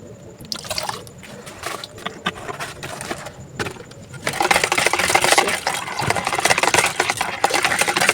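Antiseptic liquid ingredients being mixed together, with splashy liquid sloshing and clinking, sparse at first and then a steady louder churning swirl.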